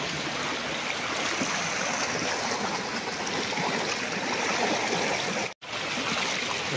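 A spring-fed stream on a farm lot in Siniloan, Laguna flows continuously, giving a steady, even rush of running water close by. The flow sounds the same throughout except for a brief dropout near the end, and no one speaks.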